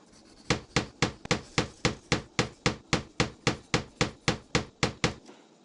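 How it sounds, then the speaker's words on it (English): Hammer nailing walls together in the Tonka Workshop video game: about sixteen sharp, evenly spaced taps in a steady fast rhythm, close and clear, with no other sounds. "Use the hammer to nail together the walls and connect the turrets."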